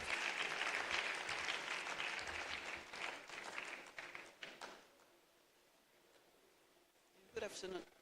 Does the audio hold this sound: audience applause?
yes